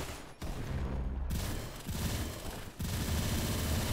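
Gunfire in the Roblox game Arsenal: rapid automatic bursts rattle loud and close, coming in two or three volleys separated by brief dips, with no talking.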